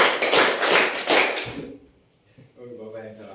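Group of people doing hand claps in a counting clapping game, a run of quick loud claps for about a second and a half, then a pause and a voice speaking.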